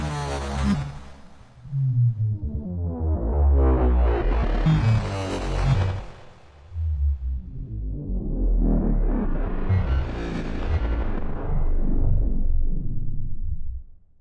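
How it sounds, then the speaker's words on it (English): An 8Dio Hybrid Tools sample stretched across the whole keyboard, played at different pitches over a couple of octaves: three long, swelling hybrid tones, each rising and sweeping through the range before decaying, with no talking. "the last sample you've played, you click stretch, and now that sample is assigned to the entire keyboard here"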